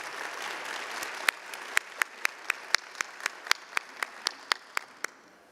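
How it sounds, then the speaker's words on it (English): Audience applause at a swearing-in ceremony: crisp, evenly spaced claps ring out over a steady wash of crowd noise, holding a regular rhythm for several seconds. "Let's give her a round of applause as she comes."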